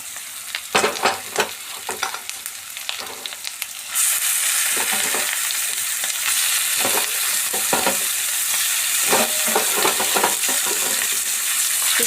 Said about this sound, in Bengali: চিকেনটা দিয়ে খুব সুন্দর করে এসব খুব ভাজা ভাজা টাইপের করে নেব